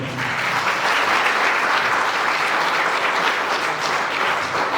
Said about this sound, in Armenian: եկեք ջերմ ծափահարենք